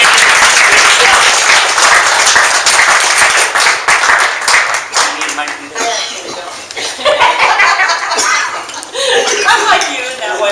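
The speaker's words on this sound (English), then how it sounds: "give her a hand clap" An audience at a San Jose networking meetup claps as Nita Williams is called up, loud continuous applause mixed with chuckles and chatter, easing midway and then swelling again before fading under talk.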